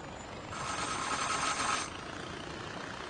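A helicopter engine in the video game Far Cry 4 gives a faint, steady whirring hum that swells for about a second and a half before settling back to a low drone.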